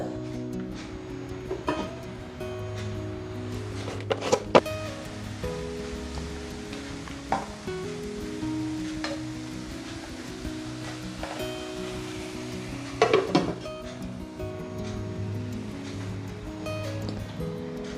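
Squid fries in a covered pan with a continuous sizzle, broken by a few sharp pops and crackles now and then.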